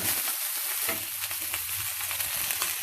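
Steady sizzling of pesarattu, a green gram dosa with coriander, frying in a hot pan on a gas stove, a dense continuous crackle held at the same level with no talk.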